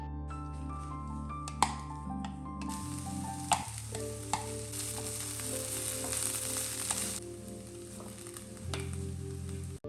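Crushed beef and smashed potato being mixed in a hot frying pan give a steady close sizzle, with a few sharp spatula clinks and tonal music in the background.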